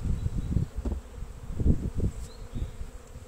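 Honeybees humming around an open hive frame during queen-rearing starter preparation, a dense close buzz with fluctuating pitch as individual bees pass near, loud and steady without talk.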